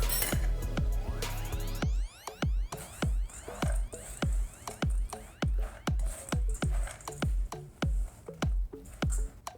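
Granola stirred in a bowl with dried cranberries and raisins gives a steady rhythm of close, clinking and scraping strokes, roughly two per second, following a brief opening stretch of music.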